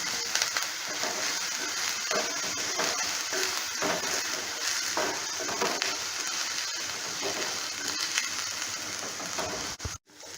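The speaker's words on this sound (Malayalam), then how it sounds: "ഇനി ഇതെല്ലാം ഒന്ന് നന്നായിട്ട് വഴറ്റിയെടുക്കാം." Onions and curry leaves sautéing in a pan for egg masala curry, a steady close sizzle with scraping and stirring crunches throughout, fairly loud and without speech.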